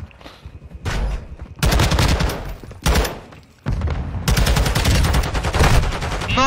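Rapid video-game gunfire with whistling bullets, loud and near, comes in dense automatic bursts separated by short quiet gaps.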